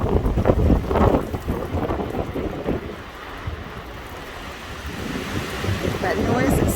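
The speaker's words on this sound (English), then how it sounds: "There's a 75-mile-an-hour gust headed this direction." A strong wind gust of up to 75 mph in Sitka, Alaska, roaring loud and steady through trees as a continuous rushing rumble that eases midway and then builds again.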